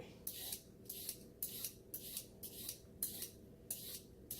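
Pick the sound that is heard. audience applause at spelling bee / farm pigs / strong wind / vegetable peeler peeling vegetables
vegetable peeler peeling vegetables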